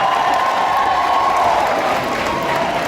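A crowd at a Gatundu gathering claps steadily for a member of parliament from Naivasha, a dense, continuous wash of applause with faint cheering and murmur mixed in, loud and sustained throughout.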